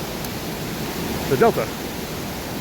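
Indoor waterfall in the Gaylord Opryland atrium pours as a steady, broad roar of falling water, constant and fairly loud, with a brief spoken voice over it.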